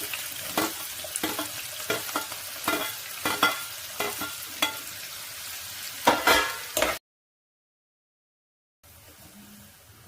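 Onion and green chili, with curry leaves, frying in hot oil for poha, crackling and sizzling close up with repeated stirring scrapes for about seven seconds before a sudden cut to near silence.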